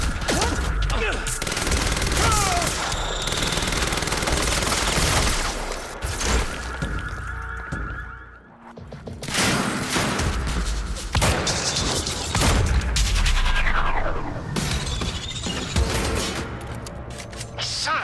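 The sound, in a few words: gunfire in the video game Quantum Break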